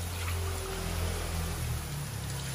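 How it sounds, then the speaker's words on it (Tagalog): Water runs into a pot of sautéed aromatics for a simple Filipino sotanghon soup, a steady continuous pouring stream heard up close with a faint low hum beneath, no talking. "So, pwede natin siya lagyan ng tubig."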